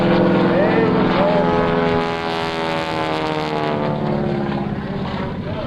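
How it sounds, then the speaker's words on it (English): Propeller airplanes fly at the 2001 NAES Lakehurst Airshow, giving a loud, continuous droning engine roar with shifting pitch as the aircraft pass, steady throughout and slowly easing in level. "let's watch up to the right side now as some of these pilots would fly their own airplanes"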